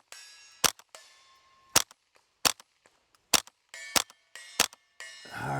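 Sharp rifle shots from a Ruger 10-22 in a bullpup chassis, a series of crisp, dry cracks spaced about a second apart in quiet surroundings, a few with quick smaller clicks right after.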